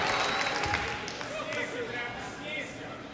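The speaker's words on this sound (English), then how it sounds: "Crowd starting to respond." Arena crowd at a jiu-jitsu match swelling into a steady murmur and cheering, broadband noise filling the space with commentary-like voices over it.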